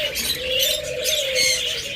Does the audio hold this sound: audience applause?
no